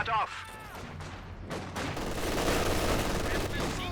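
Gunfire from Grenadiers in Company of Heroes 2, dense bursts of rifle and machine-gun fire in a continuous battle din, loud and close, with game effects mixed in.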